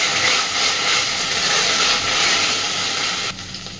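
Masala frying hard with ginger and garlic, prawn and potato curry in progress, gives a loud, steady, broadband sizzle that runs continuously, then drops off sharply near the end, with no talk.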